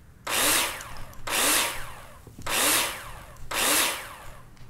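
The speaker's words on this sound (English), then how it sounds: "And then we go for the drill." Power drill fitting a door in the Builder Simulator video game: four evenly spaced bursts of loud whirring, each about a second long, with short gaps between.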